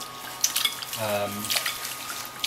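Purple forbidden rice and red quinoa rinsed and squeezed by hand in a bowl of water, with close, soft sloshing and splashing bursts and a low hum in the background.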